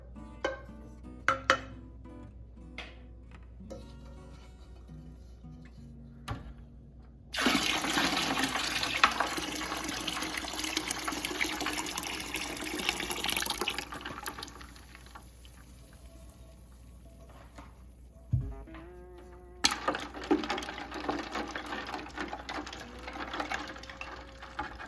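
Brine mixture poured into ice water in a briner bucket, heard as a steady rushing pour of liquid lasting several seconds, preceded and followed by scattered clinks and knocks, with a second shorter pour near the end.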